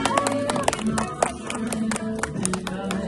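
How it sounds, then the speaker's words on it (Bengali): Family members clap at an anniversary celebration in Santiniketan, a few quick uneven claps near and mid-distance under excited chatter and greetings, with voices talking throughout. "সবাই হাততালি দাও।"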